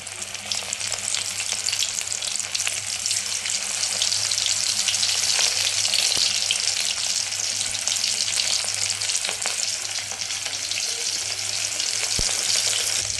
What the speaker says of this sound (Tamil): இப்போ வந்து சட்டியில் வந்து எண்ணெய் வச்சு காய வச்சுருக்கேன் இப்போ ஒன்று ஒன்றா போட்டுக்கலாம்